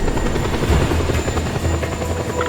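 A helicopter in the Just Cause 2 video game drones with a steady, loud rotor thrum and engine whine, continuous and close, with no talk over it.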